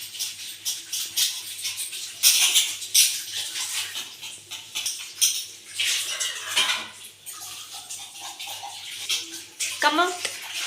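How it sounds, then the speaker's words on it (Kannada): Dishes, pots and utensils being washed at a home kitchen sink, with running water splashing and metal and ceramic clinking and clattering in uneven bursts, close and fairly loud, with faint voices now and then. "ಹಾಗಾಗಿ ಪಾತ್ರೆ ಕೂಡ ತೊಳ್ಕೊತಾ ಇದ್ದೀನಿ ಇವಾಗ"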